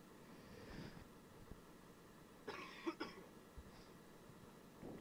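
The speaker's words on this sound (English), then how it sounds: "That was also cough." Soft coughing heard during a train simulator session on a North Wales route, a few short separate bursts at low level over a steady engine hum.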